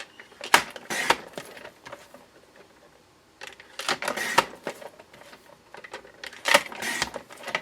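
A paper trimmer slices cardstock at close range, giving clusters of crisp clicking and sliding cuts in three bursts separated by quiet pauses, with no talk.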